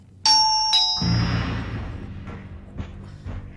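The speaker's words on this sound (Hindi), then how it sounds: "अरे इस घर में बामुश्किल ही घंटी बजती है।" A household doorbell gives a bright two-tone ding-dong chime, loud and close, then fades into a low ringing decay with faint room sounds after it.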